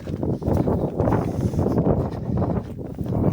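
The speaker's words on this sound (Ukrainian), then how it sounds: "Перепрошую, може трошки шуміти, бо вітер." Gusty wind over a snowy field with solar panels buffets the microphone in a continuous low, rumbling roar, loud and close.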